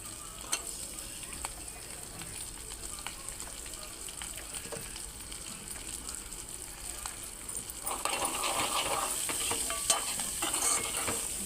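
Chutney ingredients with coconut fry in a pan, a steady close sizzle with scraping stir strokes throughout, growing louder and brighter near the end.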